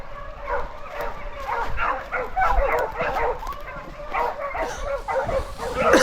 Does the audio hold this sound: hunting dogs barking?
yes